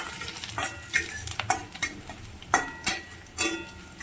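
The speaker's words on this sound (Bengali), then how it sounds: "এরপর দিয়ে দিচ্ছি ওই গ্রেট করা আদা কুচি, দিয়ে আমি ভালো করে নেড়ে নিচ্ছি।" Onions frying with grated ginger are stirred in a pan for a Bengali masoor dal curry, with a soft background sizzle broken by repeated scraping strokes at an uneven rhythm, close and fairly quiet, with no voices.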